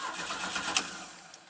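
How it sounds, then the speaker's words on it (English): A 1985 Pontiac Fiero SE engine, front-end damaged, cranking over without catching, a steady close mechanical churn with brief sharp clicks and no voices. "She cranks and she sparks."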